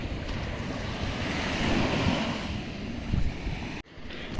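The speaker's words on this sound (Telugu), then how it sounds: "ఇది వేవ్స్ అయితే ఉన్నాయి మొత్తం డేంజర్ వేవ్స్ ఇవన్నీ" Ocean waves breaking at Kudle Beach in Gokarna, Karnataka, a continuous rushing roar of surf with swelling surges, heavy wind buffeting the microphone and a sudden dip near the end.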